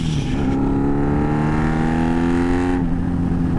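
A Honda Magna motorcycle engine revs loudly up close, pitch climbing steadily, then drops off abruptly near the end.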